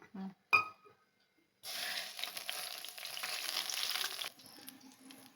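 After a couple of brief clinks, hot oil sizzles steadily and close by in a frying pan, a continuous crackling hiss that carries on to the end.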